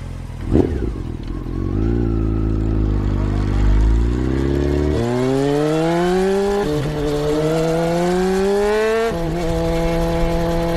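Motorcycle speeding away, the engine roaring loud and close and climbing in pitch through several gear shifts as it accelerates, with no talk.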